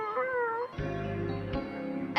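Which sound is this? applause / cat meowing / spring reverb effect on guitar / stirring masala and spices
cat meowing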